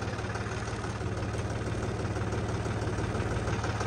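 A tractor engine idles close by on a Punjab farm, giving a steady, low rhythmic chug with a constant mechanical throb that holds even throughout, with no talking.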